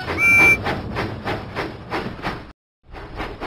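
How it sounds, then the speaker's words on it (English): Steam locomotive puffing in a Thomas and Friends children's video game, a steady chuff repeating about every half second with a brief whistle at the start, a short silent gap, then more puffs. "Percy puffed proudly into Knapford Station"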